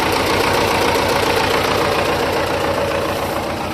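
Tractor engine running steadily while harrowing ploughed land, a loud, even, continuous mechanical drone with fine repetitive knocking and no interruptions, close and alone.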